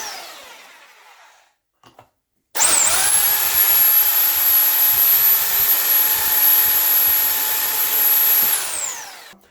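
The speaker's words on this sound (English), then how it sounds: "Now let's try drilling at this concrete wall." A Bormann BPH4500 Pro SDS Plus hammer drill bores into a concrete wall, starting after a short quiet stretch with a sustained loud, high-pitched whine and grinding rattle that holds steady for several seconds, then winds down.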